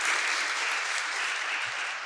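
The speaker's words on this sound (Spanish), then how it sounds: "Un aplauso, por favor," Steady applause from an audience at a university institute event, greeting the rector with a thick, even wash of clapping that holds at one level throughout.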